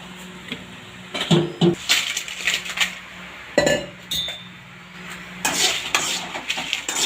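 Dried red chillies roasting in sesame oil in a metal pan for pickle masala, with repeated scraping and clinking of a utensil against the pan in irregular bursts, fairly close and loud, no talking.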